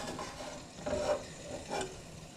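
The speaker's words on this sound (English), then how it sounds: "So put that on high heat just to get that butter melted." Butter melts in a pan over high heat, giving a faint, quiet sizzle with a couple of soft swishing sweeps.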